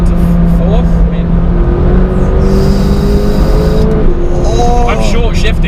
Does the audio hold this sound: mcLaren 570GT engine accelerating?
yes